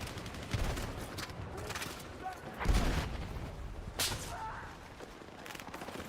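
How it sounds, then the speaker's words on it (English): Gunfire crackles in a Battlefield 6 multiplayer battle, with a few sharp, cracking rifle shots standing out among scattered distant shots and rumbling battle noise. "Someone just got sniped right next to me"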